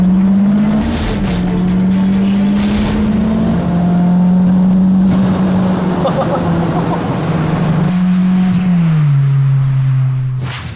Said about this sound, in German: Das 4800 Umdrehungen ist halt so eine normale Beschleunigung, schlechter als ein GTI